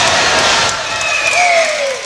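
Wrestling arena crowd at an NWA show roaring and cheering throughout a wrestler's strut, a steady loud wall of voices with whoops and a couple of rising whistles near the end.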